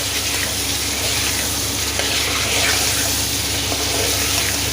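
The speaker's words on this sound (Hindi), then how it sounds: "तो ज़रा अभी फ्राई करते हैं" Tomato masala with salt and chili, plus a splash of water, frying in a pan for aloo chicken, giving a steady, close hiss and bubbling sizzle that runs throughout with no talking.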